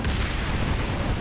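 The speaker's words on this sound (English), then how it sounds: "They're shooting at me too" Dense, continuous gunfire and booming blasts from a Planetside 2 battle roar steadily at close range with no pauses, and no voices are heard.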